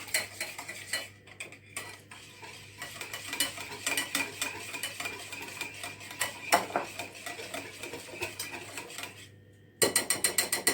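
A whisk stirs a seasoned sauce mixture for oven-baked chicken in a bowl, giving a steady run of quick metallic clinks and scrapes against the sides, close and clear, with a brief pause near the end before the whisking resumes.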